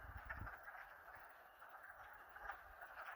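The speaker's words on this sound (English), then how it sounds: "Hear the cackling of wood frogs?" Wood frogs cackle in a steady, dense chorus at a beaver pond, a continuous rattling chatter held at an even level across the clip, moderately near with no voices.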